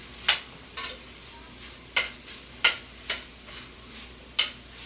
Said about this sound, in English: let this cook in the ground meat until the vegetables are wilted